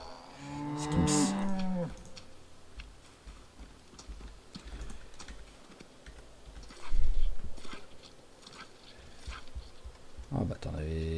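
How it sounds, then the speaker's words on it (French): A cow in the video game Project Zomboid gives a short moo at the start, followed by soft game sounds and quieter talk, with a second brief moo near the end. "Il me reste encore au moins une vache, je crois."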